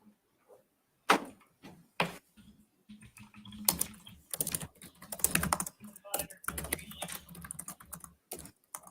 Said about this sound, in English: That's just some aggressive typing.